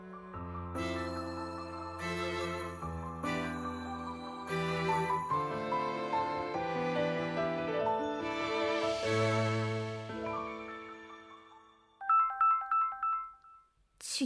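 A telephone ringtone in a Korean ghost-story audio drama, a bright repeating electronic melody over layered music, ending in a few sharp tonal ring bursts near the end, with no talking.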